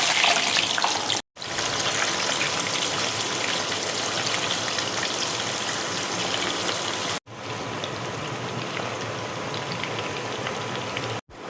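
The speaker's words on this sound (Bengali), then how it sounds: "কড়াইয়ে দেখো তেল বসিয়েছি, তেল দেখো গরম হয়ে গেছে, এবার আমি পনিরগুলো এক এক করে তেলের মধ্যে ছেড়ে দেবো" Paneer pieces sizzling and crackling in hot oil in a wok, a dense, steady frying hiss that runs loud and close throughout, broken by two brief pauses.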